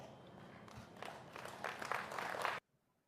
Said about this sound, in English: After this speech and this squint, listen to the clapping